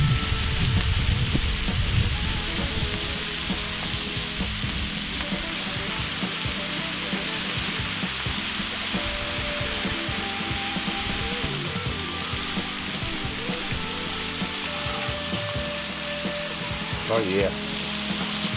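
Store-bought bacon sizzles on a Cuisinart 360 griddle, a steady crackling hiss throughout with a brief voice speaking over it near the start.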